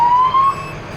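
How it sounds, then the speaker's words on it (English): A fire truck's emergency siren on a ranch sweeps upward in a steady, loud wail close by, with no voices over it. "And then you got your whale, yelp, phaser, which are your 3 sirens."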